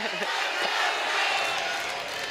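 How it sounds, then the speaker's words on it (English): A packed arena crowd roars and cheers at a Reality Fighting event, a steady, dense wash of voices with chant-like swells, loud and continuous throughout with no single voice standing out. "Little crowd vibration."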